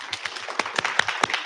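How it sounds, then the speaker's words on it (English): Applause from an audience at a childhood cancer community symposium, a brisk patter of many hands clapping at moderate volume with sharper individual claps standing out. "We're going to round of applause as loud as we can here real quick."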